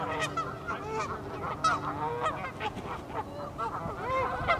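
Geese honking along the Rio Grande in New Mexico, a busy overlapping chorus of loud nasal honks at close to moderate distance, continuous throughout with no talking.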